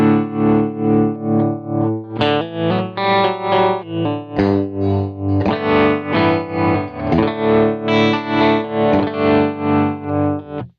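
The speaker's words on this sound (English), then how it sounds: "next up we have the tremolo," Distorted electric guitar chords throb in a steady, rapid volume pulse, the tremolo chopping the sound into even waves throughout.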